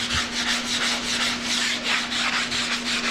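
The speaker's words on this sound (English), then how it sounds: "I feather everything with the block sander" A block sander rubs back and forth over plaster in a plaster repair, a steady close scratchy rasping with even repeated strokes and no talk.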